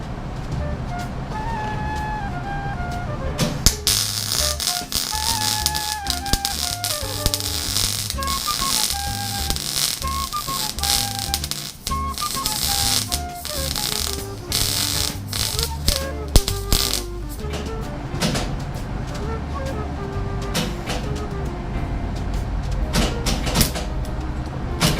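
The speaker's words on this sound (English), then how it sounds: "this is my first time doing this with a MIG welder" MIG welder welding a widening gap, producing a steady dense crackle and sizzle that runs nearly the whole time at an even loudness, with tonal background music playing underneath.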